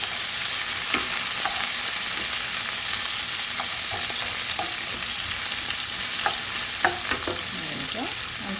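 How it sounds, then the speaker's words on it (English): Green peppers frying and sizzling in a pan for an Italian-style bean dinner, a steady hiss throughout with scattered scraping clicks from the spoon as they are stirred, close and alone with no talk. "Just fry your green peppers."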